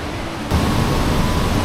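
A large waterfall in the Yuanyuan Grand Canyon in Guangdong roars as a loud, dense, unbroken rush of water that cuts in suddenly and then holds steady.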